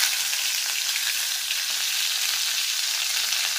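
Curry leaves crackling in hot oil just after mustard seeds have popped, a loud, steady, dense sizzle heard up close with no voices.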